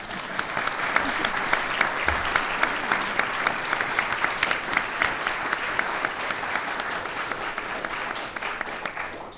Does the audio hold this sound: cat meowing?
no